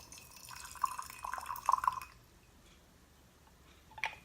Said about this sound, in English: we're pouring boiling water from our Gooseneck kettle into the teaware or recently boiled water, to warm it up and wake it up